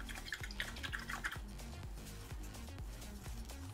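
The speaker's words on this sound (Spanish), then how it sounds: "Así que limpiamos el pincel." A paintbrush is swished and rinsed in a water jar, giving rhythmic sloshing splashes and light drips about twice a second, close and steady, with no talk.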